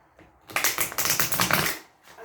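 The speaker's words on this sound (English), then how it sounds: "I can't even shuffle this deck. It's so hard right now. It's stiff," A stiff tarot card deck being shuffled, a dense run of riffling, papery card flutters lasting under two seconds, close and fairly loud, with no talking.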